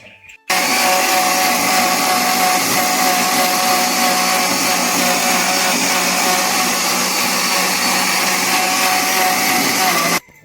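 A kitchen mixer-grinder whirs loudly as it blends spiced buttermilk with coriander, starting abruptly, holding a steady high-pitched motor whine for about ten seconds, then cutting off sharply.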